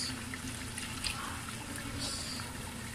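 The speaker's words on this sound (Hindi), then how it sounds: "इसके अंदर हम 2 गिलास पानी डाल लेंगे हल्का सा ग्रेवी के लिए" Water poured into a pot of Punjabi mutton masala to make gravy, a steady, fairly quiet splashing wash that runs for about three seconds without talk.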